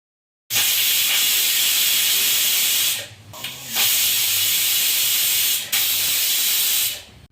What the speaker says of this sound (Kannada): ಈಗ ನೋಡಿ ಮೂರು ವಿಜಲ್ ಕೂಗಿಸ್ಕೊಂಡಿದ್ದೀನಿ